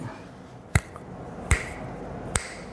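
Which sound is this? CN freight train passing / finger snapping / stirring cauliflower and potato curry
finger snapping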